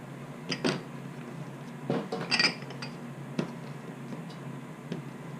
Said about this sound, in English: So we're going to put the onions in the pan